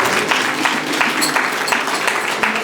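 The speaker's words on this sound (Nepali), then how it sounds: "जोरदार ताली बजाए स्वागत।" Sustained applause from a crowd, dense steady clapping filling the whole stretch without pause.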